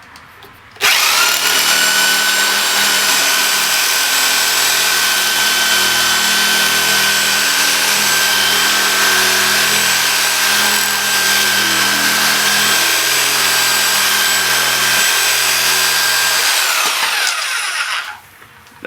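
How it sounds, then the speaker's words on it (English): A Sawzall reciprocating saw cuts through the base of a 1.75-inch canister shell mortar, a loud continuous buzzing rasp with a high whine that starts abruptly, runs steadily for about seventeen seconds, then stops. "take the Sawzall, and we're just going to run right along the base here and cut it off"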